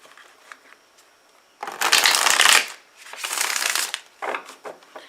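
Tarot cards being shuffled by hand in two long, close bursts of crisp riffling from about 1.6 to 4 seconds, then a few shorter flicks, with quiet pauses between and no talk.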